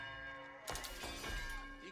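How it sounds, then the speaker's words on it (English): Town bell in Age of Empires 4 rings out during a ranked match, a sudden bright metallic strike partway through that lingers over quiet game sounds, with a second softer hit after it. "I ring the bell, but he's doing really good idle time."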